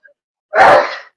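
One short, sharp sneeze bursts out loudly after a moment of silence, then cuts off quickly.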